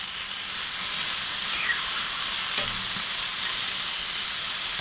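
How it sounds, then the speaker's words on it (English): Three bacon rashers sizzling on the flat side of an Aldi kamado grill, giving a dense, continuous hiss that stays steady and close throughout, with no voices. "we're going to go on with our bacon on the flat side"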